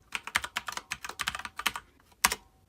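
Quick bursts of key clicks from a Mac keyboard as a password is typed, ending after a brief pause with a single sharper press of the Return key, close and clear with no talking.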